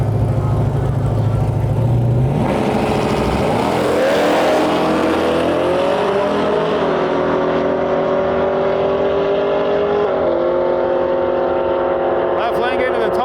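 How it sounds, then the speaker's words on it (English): A nitrous 5th gen Camaro SS and a 2nd gen Camaro Z28 launching on a drag strip, engines roaring loudly and climbing through the gears as they pull away into the distance, under a commentator's voice. "next pair up here, we got a 5th gen Nitrous Camaro SS in our lane"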